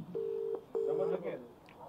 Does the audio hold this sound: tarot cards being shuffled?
no